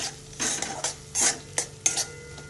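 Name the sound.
masala spices roasting and stirred in oil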